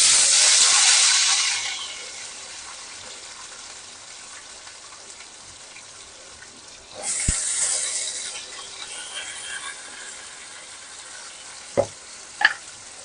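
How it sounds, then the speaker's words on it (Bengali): Potatoes frying in oil seasoned with cumin and bay leaf, a strong sizzle at first that dies to a low hiss, then swells again as they are stirred, with a couple of sharp utensil clinks near the end. "আমি এখন এই আলুগুলো ছেড়ে দেবো। আলুগুলো ভাজা ভাজা হবে।"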